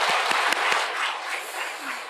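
A church congregation at a Wednesday evening service claps in thanks, a broad wash of hands with a few sharper claps at the start, fading slightly toward the end.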